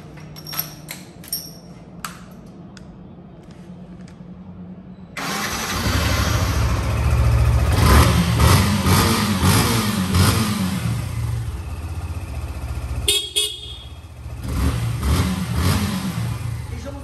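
A used motorcycle starts after a few clicks and mechanical taps, then idles loudly and close with a steady mid-pitched engine note, revving up and down in bursts, dipping briefly before picking up again.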